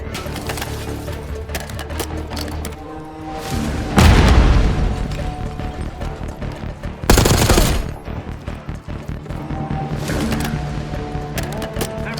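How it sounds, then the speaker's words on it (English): Grenade launch and blast in the Call of Duty Black Ops 6 shooter game, a heavy boom around the middle followed by a second loud burst, set within continuous rattling gunfire and battle noise. "Launching a grenade."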